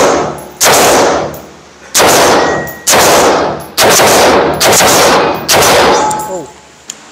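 A Rock Island Armory Torch rifle in 5.56 fires six loud, sharp single shots at roughly one-second intervals, each followed by a long ringing decay outdoors, with a brief voice afterward.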